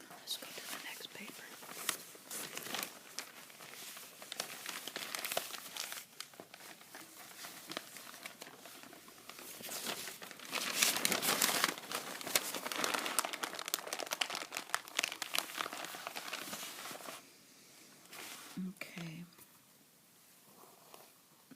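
Sheets of paper are crinkled and shuffled close up throughout, with soft rustles and crackles running under steady whispered talk in a quiet, relaxing ASMR setting.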